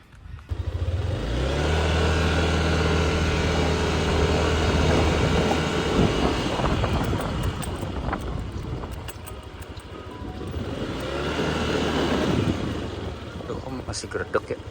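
Yamaha Aerox scooter engine revved with a persistent judder, a loud droning hum that rises, fades and returns, with a voice speaking over it.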